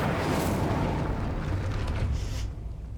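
Incendio fire spell cast in Hogwarts Legacy, a loud, sustained fiery roar and whoosh that holds steady for a couple of seconds, then tapers off.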